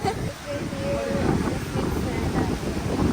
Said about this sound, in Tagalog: Lamig, mahangin gabi.